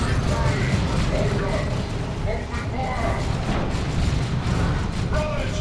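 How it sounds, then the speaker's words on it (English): A Manticore artillery shot in the real-time strategy game Dawn of War II: Retribution lands as deep booming rumbles amid dense battlefield noise. A commentator talks continuously over the explosions. "There goes a Manticore shot, nearly taking out a squad of heretics."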